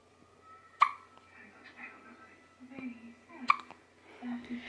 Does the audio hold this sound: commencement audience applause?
no